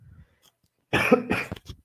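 A single close, harsh cough follows a brief quiet stretch, then a short throat-clearing sound trails off.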